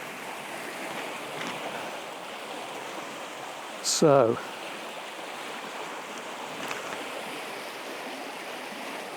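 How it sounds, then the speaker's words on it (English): Rushing river water pours over a couple of large boulders beside a woodland path, a steady broadband roar close by, briefly masked by a short voice and a clatter of handling noise midway. "it's quite noisy here because the flow's coming down over a couple of big boulders"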